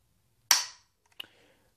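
A single crisp trigger break on a Ruger American Ranch rifle in 300 Blackout gives one sharp, close click, followed a moment later by a softer mechanical tick, in a quiet room.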